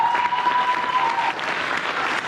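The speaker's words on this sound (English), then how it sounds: "So let's give a big round of applause" An audience claps steadily at a high school boys basketball banquet, a dense even round of applause that carries on without letup.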